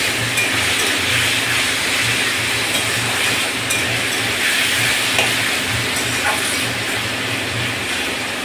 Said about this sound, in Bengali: আলু ভাজা করছি দেখো বন্ধুরা